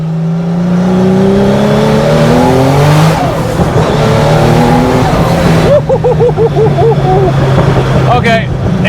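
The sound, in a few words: Guntherwerks Porsche 911 Turbo engine accelerating on the road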